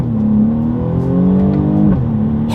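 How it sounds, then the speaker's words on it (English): A 2020 BMW M235i Gran Coupe accelerates hard during a paddle-shifter test. The engine note climbs steadily and loudly, drops sharply at a quick upshift, then starts rising again, heard up close with no talking. "let's test out the paddle shifters here, see how quickly they react for us. Let's do a little paddle shifter test here."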